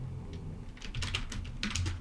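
A computer keyboard clacks as a device name is entered during a Windows 11 setup, several quick bursts of close key presses with short pauses between them, with no talk.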